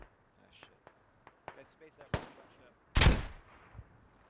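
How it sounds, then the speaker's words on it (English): Frag grenades going off in a multiplayer video game, scattered faint thuds leading to a sharp bang and then a louder, rumbling explosion, with a voice talking quietly between the blasts. "Frag grenades out onto Senpai."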